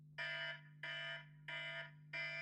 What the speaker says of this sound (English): We'll have a 5-minute timer going on, so that when 5 minutes are up, you will hear this noise at 5 minutes.